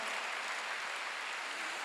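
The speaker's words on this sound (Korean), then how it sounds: "깨달은 사람은 박수 한번 크게 쳐봐요" Brief, steady burst of congregation applause during a Sunday church service, dense and even throughout.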